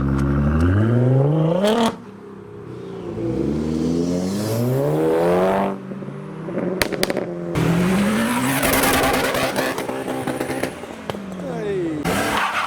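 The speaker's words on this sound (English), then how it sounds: "So will we get some more revolutions from the GTR?" A Nissan GTR leaving a car show with loud rising and falling engine revs, brief tyre squeals and other cars nearby, while people talk over it.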